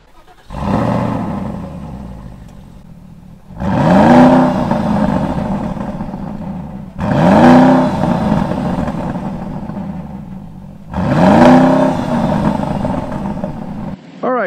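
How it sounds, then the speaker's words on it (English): A 2008 Porsche Cayenne Turbo with a partial bypass exhaust pipe, revved four times in a row, each loud throaty surge rising sharply then settling to a rumbling idle, heard close up. "This gives you a partial bypass effect, and it gives you a much throatier exhaust tone than you would normally have without this."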